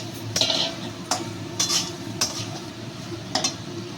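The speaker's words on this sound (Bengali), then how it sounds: "এবার আমি ডাঁটাটা আর আলুটা দিয়ে নিচ্ছি" Amaranth stems and potato pieces are tipped into spiced masala in a pan, giving several sharp metallic clinks and scrapes of a spoon against the pan over a low background hum, with no talking.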